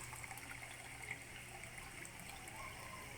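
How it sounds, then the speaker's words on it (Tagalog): Water pours steadily into a cooking pot for soup, a continuous close splashing gush that keeps going without a break and with no talk over it. "Damihan natin ng tubig"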